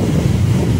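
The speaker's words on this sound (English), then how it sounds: "All that ocean noise you're hearing" Ocean surf on the beach at Black River, St. Elizabeth, Jamaica, makes a brief, loud, steady roar mixed with heavy wind buffeting the microphone.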